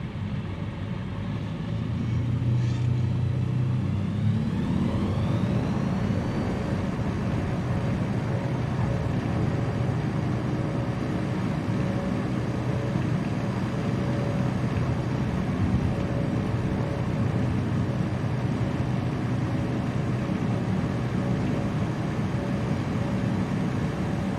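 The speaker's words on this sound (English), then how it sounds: "I restarted the aircraft and took off." Propeller aircraft engine in Microsoft Flight Simulator 2020 throttling up for takeoff, a steady loud drone with a rising whine in the first seconds, then a continuous even roar.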